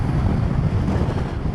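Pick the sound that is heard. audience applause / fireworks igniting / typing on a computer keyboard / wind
wind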